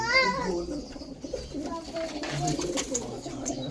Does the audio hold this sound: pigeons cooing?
yes